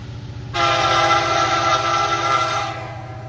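A freight train rolls slowly past trackside, its loud steady rumble and horn-like tonal drone filling the air close by for a few seconds before easing off.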